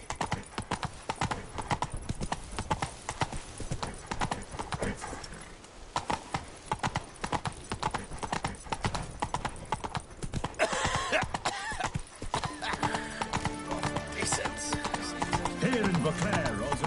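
Steady clip-clop of horse hooves while riding in The Witcher 3's Beauclair, brisk and close, with a snort or whinny and brighter game sounds layered in toward the end.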